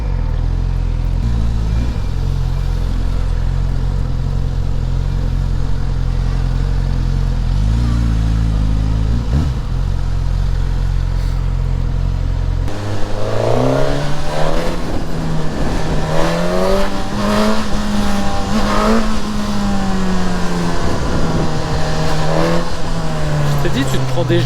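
A Suzuki GSX-S 1000 motorcycle gives a steady low drone at first, then its engine revs up, rising and falling in pitch as it accelerates hard, loud and close.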